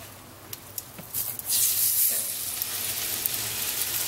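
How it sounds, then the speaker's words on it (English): A pork chop is laid on a heated Yoshi grill mat and breaks into a loud, close, steady sizzle after a few soft handling clicks, hissing on continuously with no talking. "Okay, I've let the mat heat up now. I'm going to put the pork chop on."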